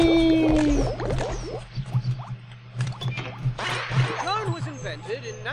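A climbing sound effect from the video game BattleBlock Theater: a run of soft squishy squeaks and scrapes that repeat irregularly over a steady low game drone, with no voices.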